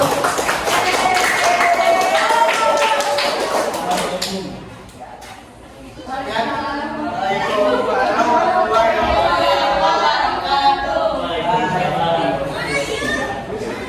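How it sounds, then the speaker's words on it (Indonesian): Classroom applause for a student presentation group during a university teacher-training practice session, clapping mixed with chatter from the students and broken by a short lull before a second burst. "tepuk tangan untuk kelompok 1."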